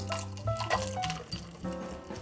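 Gin poured into a single-serving glass for a gin and tonic, soft liquid gurgles and splashes mixed with a few tonal clinks at close range.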